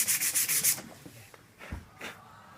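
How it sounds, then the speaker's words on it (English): Power sander working the wooden stock of an RPK AK-47 rifle being refinished: a loud, steady abrasive whir for under a second, then quieter scattered rubbing and a few soft knocks. "And we're going to power sand this piece."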